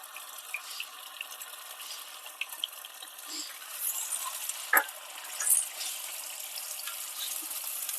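Ground masala paste frying in melted ghee in a pan, a soft continuous crackling sizzle with light clicks and stirring scrapes, fairly quiet and steady throughout.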